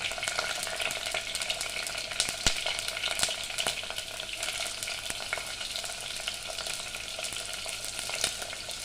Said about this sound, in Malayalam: നമ്മൾ സ്ലൈസ് ചെയ്തിരുന്ന സവാളയും ചെറിയ ഉള്ളിയും കൂടി ഇതിലേക്ക് ഇട്ട് കൊടുക്കാം